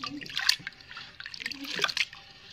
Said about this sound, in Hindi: और ये बड़े से पतीले में अभी इसको धो रही हूँ मैं